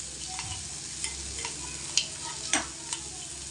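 Chili and ginger dropped into onions frying in a pan for masala bhindi, with a steady sizzle broken by a few sharp stirring clinks and scrapes.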